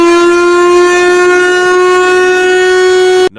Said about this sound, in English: Number 1 is Chrysler Air Raid Siren.